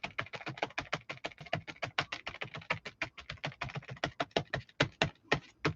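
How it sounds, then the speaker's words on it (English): Fingertips tap quickly and unevenly on paper during painting, a dense run of light, close, dry taps with no other sound. "y'all can hear I'm just tapping on the paper with my fingers"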